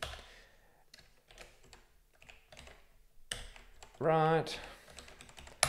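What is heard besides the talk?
typing on a computer keyboard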